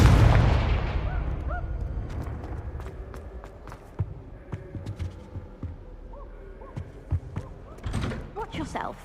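A Confringo blast spell fires in a Harry Potter game on PS5, a loud burst at the start that fades into scattered sharp cracks and impacts, with a voice speaking over it.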